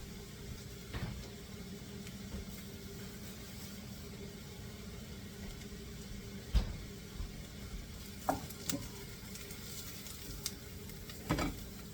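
Flour cooks in butter for a ham and potato casserole, giving a low, continuous sizzle with scattered sharp clinks and scrapes of stirring.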